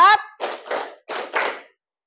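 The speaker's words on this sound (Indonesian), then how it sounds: "Tepuk 1, tepuk 2, tepuk 3, tepuk 4" A classroom of students claps together in a counted rhythm, with two quick bursts of group claps after a short spoken cue, then a pause and two more bursts, each a crisp, close-miked flurry of many hands.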